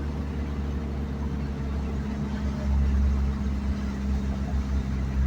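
A car engine revs with a deep, steady rumble that swells louder partway through, then holds at a strong drone close by, with no talking.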